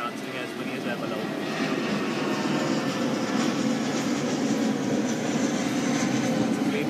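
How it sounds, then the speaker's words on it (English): An airplane passing overhead, a loud steady broadband roar that holds constant throughout, heard outdoors with a voice talking underneath. "There's a plane going above my head"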